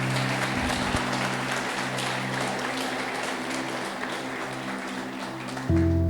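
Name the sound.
congregation applauding in church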